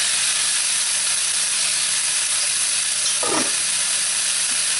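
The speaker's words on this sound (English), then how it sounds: "I have a large deep skillet here over medium heat, and we're going to add our bacon, our kielbasa" Bacon and kielbasa sizzle steadily in a large deep skillet over medium heat, giving a continuous close hiss with a brief louder burst near the end.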